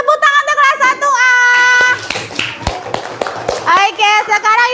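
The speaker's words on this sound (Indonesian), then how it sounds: "Tepuk tangan untuk kelas 1A." Schoolchildren in a 1A classroom clap in a short burst of hand taps, with children's voices chanting and talking loudly before and after the clapping.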